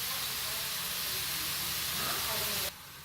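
Garlic, onion and tomato sautéing in a pan give a steady, close hiss that holds evenly throughout, then drops away abruptly near the end.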